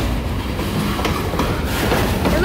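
A short local freight train on the Kiamichi Railroad rolls past close by, its wheels giving a steady clickety-clack and rail rumble that continues without a break, with no talk over it.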